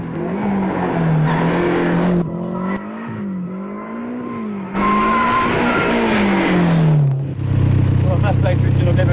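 A Holden Gemini with a strong engine is driven hard, its engine note rising and falling loudly while tyres squeal and skid through the corners, with voices heard over the noise.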